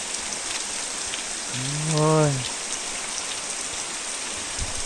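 Steady rain falls across the whole stretch, a dense even hiss, while a man briefly calls out with a drawn-out exclamation in the middle.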